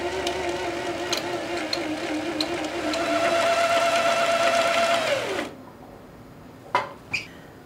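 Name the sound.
sewing machine winding shirring elastic onto bobbin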